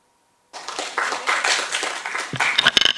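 Applause from a conference audience welcoming a session chair at a biomarkers and Alzheimer's meeting, starting abruptly after a short silence, a dense wash of many hands that swells and then breaks into a few sharp final claps.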